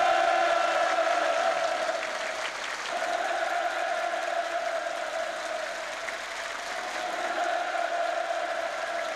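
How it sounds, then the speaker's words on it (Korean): A large audience at a Pyongyang performance during the South Korean president's visit keeps up sustained applause and cheering, a dense wash of clapping with a steady high-pitched crowd roar that fades slightly midway and swells again. "공연이 끝나자 또다시 열광의 환호가 터져올랐습니다"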